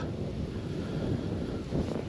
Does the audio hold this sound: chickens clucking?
no